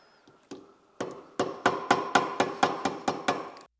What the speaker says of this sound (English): either with pliers or a rubber mallet, with tapping we loosen the barrel